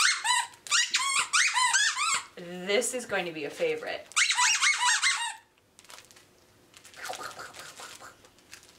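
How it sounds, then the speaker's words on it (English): A squeaky plush dog toy with two big disc squeakers in a crinkly body squeaks rapidly in repeated bursts, loud and close, with a short spoken remark partway through and softer crinkling squeaks at the end. "two big disc squeakers are in the crinkly body"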